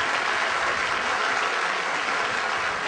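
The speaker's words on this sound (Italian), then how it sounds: "Io direi di accoglierlo con un applauso" A studio audience on an Italian television broadcast gives a welcoming round of applause for Nino Nori, a thick, continuous wash of clapping that stays loud and steady throughout.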